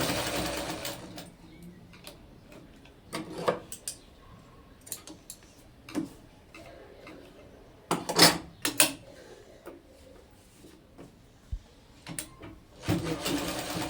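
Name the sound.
sewing machine stitching a kurti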